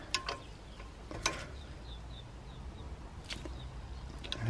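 Brake caliper slider pins on a 2013 Suzuki Alto are gently tightened with a ratchet, giving a few sharp clicks and a faint quick ticking run, close up against a quiet workshop background.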